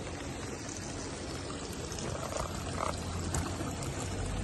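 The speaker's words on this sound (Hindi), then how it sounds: "अरे पानी मार रही हूँ मेरी माँ।" Water splashed and poured steadily at close range, a continuous loud wash of splashing with no pauses.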